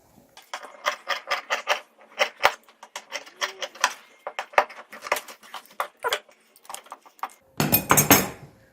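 Scissors snip fabric at the sewn neckline of a garment in a steady run of quick, crisp, close cuts, pausing briefly, then a louder rustle of handled cloth at the end.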